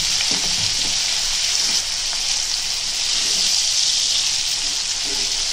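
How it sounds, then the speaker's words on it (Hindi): Minced meat (keema) fries in a pan for a Konkani-style whole-spice keema, giving a continuous bright sizzle with a few soft stirring scrapes, close and steady, with no talking. "अभी कीमा डाल के इसके अंदर अच्छे से भूनेंगे इसको"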